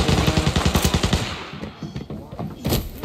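Rapid automatic gunfire in the shooter game Arena Breakout, an AEK-style rifle rattling off a loud, fast burst of closely spaced shots, then a lull with scattered quieter reports and another burst near the end.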